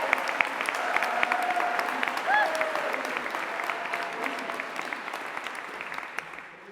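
Graduates at a university graduation ceremony in Greenwich receive sustained applause from a large audience, dense steady clapping with cheering voices rising through it, filling the hall for several seconds.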